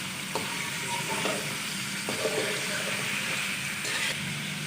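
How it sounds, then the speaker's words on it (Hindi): Chicken fries in a karahi for highway-style street-food karahi, giving a steady, fairly loud sizzle with a few scraping stirs of a utensil against the pan. "चिकन का कलर तब्दील होने तक पकाएंगे।"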